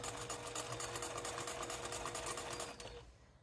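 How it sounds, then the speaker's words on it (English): A sewing machine stitches along the sides of a cork pouch at an eighth-inch seam, a close steady rapid whirring chatter that runs continuously and then stops near the end. "Now we're going to stitch along the sides."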